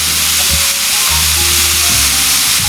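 Ground beef for stromboli sizzles and fries loudly in a pan, a steady crackling hiss interrupted by occasional scraping and stirring, with no talking.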